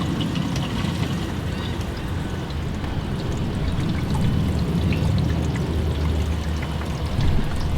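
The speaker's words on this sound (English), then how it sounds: "So water on. Good water pressure. You can hear it spraying." Water sprays hard under good pressure into a Class B RV's black tank during a flush, a loud, steady rushing pour that stays continuous and close with no talk over it.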